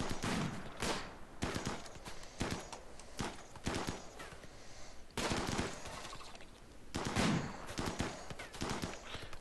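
Repeated bursts of gunfire from the colony game RimWorld in an extreme desert setting, clustered volleys with short gaps, fairly loud and busy across the whole stretch with no talking.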